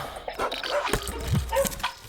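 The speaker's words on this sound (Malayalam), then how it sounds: "അടുത്ത വീട്ടിലെ പട്ടികൾക്ക് ഉറക്കമില്ലേ?" Neighbouring dogs bark and yip at night, a few sharp barks and whimpers at moderate distance with some background voice.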